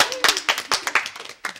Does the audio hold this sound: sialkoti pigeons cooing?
no